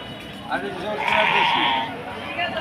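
A sheep lets out a single drawn-out bleat close by, with voices murmuring around it.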